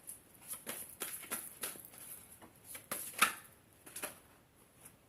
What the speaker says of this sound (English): How they shuffle.